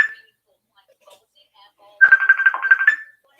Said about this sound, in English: Somebody's calling me.